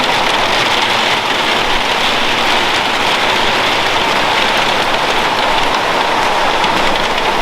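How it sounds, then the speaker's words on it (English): Steady rain pours outside in a backyard, a dense, even hiss of drops on surfaces that holds unchanged and loud throughout with no voices. "there comes the rain"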